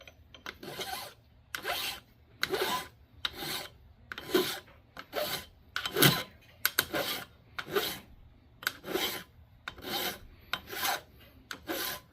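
Steady back-and-forth rasping of a file chamfering the end of a metal ramrod, about a dozen strokes in a regular rhythm, close and fairly loud, with no talking.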